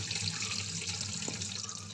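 Cold tap water pours steadily through a strainer over cooked rice flakes for palada pradhaman, a continuous splashing rush without talk.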